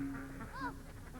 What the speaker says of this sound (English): parades of ducks, called bebeks, can be seen marching to the sawahs